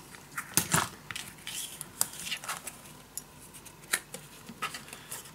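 Scissors snip paper on an accordion envelope scrapbook page, giving scattered crisp cuts and rustles at close range with uneven pauses between them.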